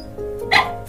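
A Teddy poodle close by lets out a couple of short, high yips and barks, preceded by a soft whine.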